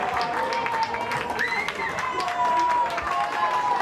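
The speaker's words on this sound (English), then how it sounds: "getting a round of applause from this Canberra United crowd" Distant crowd applause rises in a large open stadium at an A-League women's soccer match, Canberra United v Melbourne City, steady and diffuse, with whistles and chatter mixed in and a commentator talking over it.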